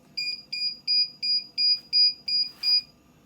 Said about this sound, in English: And it started beeping because the last state was the E-stop.